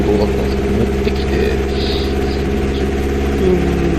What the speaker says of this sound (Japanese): 一応エンジンはかかるようにはなって、でもちょっと、調子悪そうなんで、調整してるってことなんですけど